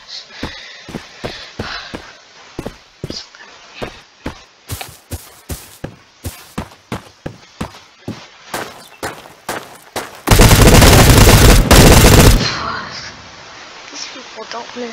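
Gunfire in the shooter game Bullet Force: a rapid run of sharp single shots, then a sustained loud automatic burst, with voice lines in between.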